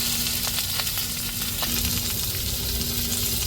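Curry leaves and a cut chili sizzle and fry in hot oil in a pan, a steady dense hiss with faint crackles, close and continuous, no voices.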